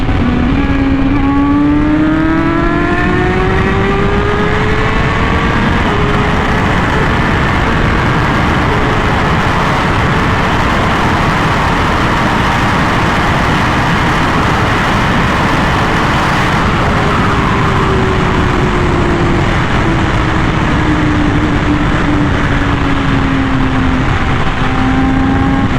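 A Honda Fireblade RR-R SP motorcycle with an SC Project exhaust roars loudly and continuously at high speed, engine pitch climbing through gears with quick shifts and sustained wind-blasted riding noise.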